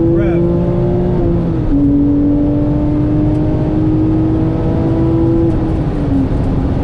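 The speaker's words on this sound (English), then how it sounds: "Listen to that flat six rev." Steady Porsche 911 997.1 GT3 flat-six engine drone at high revs on a race track, pitch holding roughly level with slight dips, loud and continuous with faint talking beneath.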